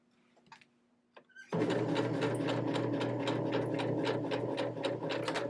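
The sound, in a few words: sewing machine back stitching across ribbon on keychain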